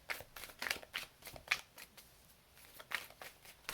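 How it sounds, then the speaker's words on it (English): Tarot cards riffled and shuffled by hand in quick, soft bursts of papery flicks, close and fairly quiet, with no talking. "I'm actually going to shuffle these again"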